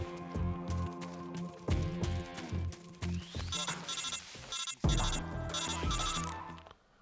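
A telephone ringtone from the video game Metal Gear Solid 3 rings in repeated electronic chiming bursts over game music, moderately loud, with no talking.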